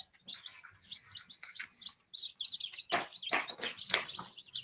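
Several small birds chirp and tweet in quick, irregular bursts, close and moderately loud, with no voices.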